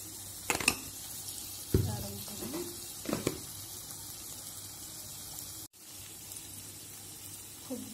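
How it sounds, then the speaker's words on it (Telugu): Paneer fries in hot oil with a steady low sizzle, broken by a few louder stirs and clatters early on, and one sharp bump midway. "సో దీనికి పన్నీర్ ఆల్రెడీ ఆయిల్లో వేసాను"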